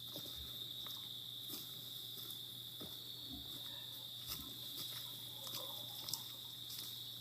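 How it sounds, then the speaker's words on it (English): A continuous high-pitched chorus of crickets chirps steadily in dense New England woods, with faint ticks and rustles in the quiet background. "You can hear the crickets."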